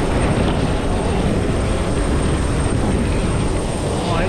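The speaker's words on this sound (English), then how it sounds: "Nah, it's still a jet." A Qantas jet aircraft's engines make a loud, continuous roar close by, a dense and steady rumble with a broad hiss.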